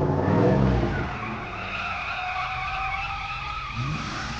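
Tires squealing and skidding in a car race in a GTA video game, a continuous loud screech with engine roar that wavers in pitch, steady throughout with no voices.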